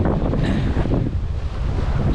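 Rough ocean and gusting wind at the beach in Augusta, Western Australia, a steady broadband roar of surf with heavy wind buffeting the microphone throughout.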